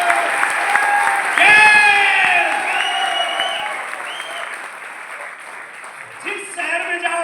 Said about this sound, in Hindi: एक बार इनके लिए जोरदार क्लैपिंग इनको।